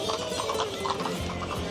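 Horses in traditional dress at the Seville fair, with hooves clopping faintly amid a lively, crowded festival ambience.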